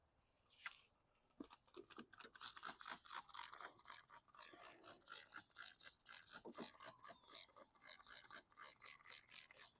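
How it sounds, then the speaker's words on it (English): Toothbrush scrubbing lawn mower parts sprayed with grill cleaner, a rapid run of short rasping back-and-forth strokes in an even rhythm, close and distinct after a few scattered bumps at the start. "I got my daughter's toothbrush to do any fine cleaning."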